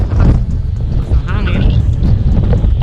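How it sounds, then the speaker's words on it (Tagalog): Strong wind buffets the microphone beside a wide concrete road leading to a barangay road, a dense low rumble running steadily throughout with a voice speaking over it. "Napakahangin lang po."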